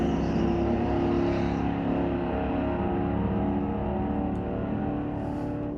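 A 1971 Chevelle drag car with a 402 engine racing at Mission Raceway Park drag strip, a loud sustained engine roar with steady harmonic drone that eases slightly toward the end, no talking.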